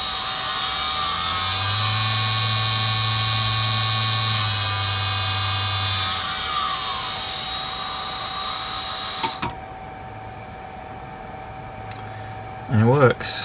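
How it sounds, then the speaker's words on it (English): A CNC machine spindle spins up, its steady high tonal whine holding alongside a lower hum before cutting off, followed by a few brief clicks. "I can run the spindle up."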